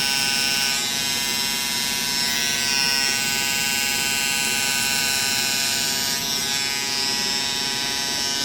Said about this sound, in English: I'm going to take my trimmer and just lay it on the side right there and almost just carve those insides out